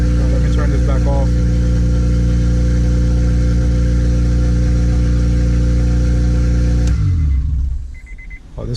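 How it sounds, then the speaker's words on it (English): Turbocharged Acura RSX engine running loud and steady at idle for about seven seconds, then cutting off abruptly with a brief rumbling wind-down into near quiet. "Oh, this car is loud."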